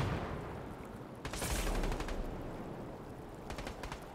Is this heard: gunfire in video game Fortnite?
yes